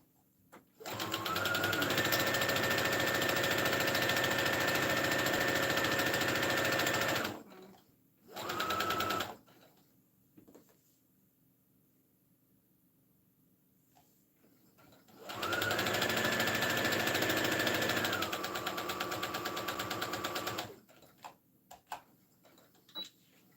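A sewing machine stitches fabric in two long, steady runs of rapid mechanical whirring, separated by a short burst and a quiet pause with faint clicks, heard close and alone.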